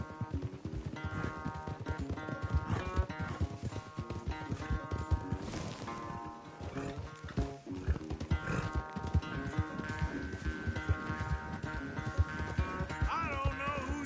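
Horse hooves clip-clopping at a gallop in the Western video game Red Dead Redemption, rhythmic and close beneath a busy orchestral music score, with a brief whinny-like sound and no clear speech.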